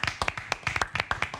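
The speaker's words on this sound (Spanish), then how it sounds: "Y Bruno Albornoz, fuerte el aplauso para los tres." A studio audience on a Spanish-language evening TV show claps in a quick, uneven burst of sharp hand claps, fairly close and moderately loud, with no talk over it.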